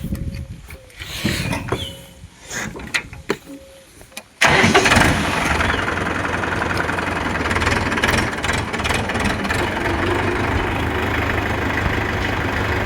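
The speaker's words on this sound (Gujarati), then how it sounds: "હાલો આપણે ટ્રેક્ટર." A tractor on a buffalo dairy farm, quiet clatter and a voice at first, then the engine cranks and catches into a loud, steady diesel running rumble that continues to the end.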